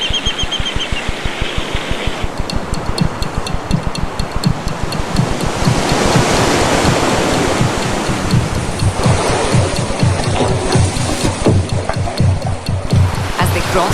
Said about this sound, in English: The sea was very violent as they crossed Cape Leuwin.